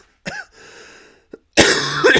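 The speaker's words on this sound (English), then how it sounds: "Let me cough for a minute." A single person coughs, a short sharp burst followed by a quieter throat noise and a second, louder harsh cough near the end, close and dry with no speech.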